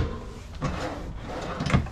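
A kitchen drawer in a Keystone Alpine fifth wheel RV slides open or shut, giving a couple of short wooden rumbles and a soft thump close by with faint room noise.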